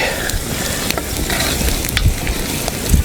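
Carrots sizzling in a frying pan with a dense, steady hiss of hot fat and occasional soft stirring clicks, close up and continuous, no voices.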